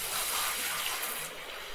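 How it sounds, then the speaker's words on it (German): Bucket being filled with water in the video game Gold Rush The Game: a steady, continuous hissing rush of running water, fairly loud and even throughout, with no voices over it. "mit Wasser voll machen."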